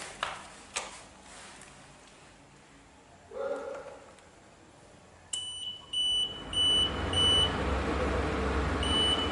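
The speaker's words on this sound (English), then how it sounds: "the exhaust fan, the alarm, and the temperature could automatically on" Faint clicks, then a sudden electronic temperature alarm starts beeping in a steady repeating pattern over a low rumbling exhaust fan noise in a home production workshop.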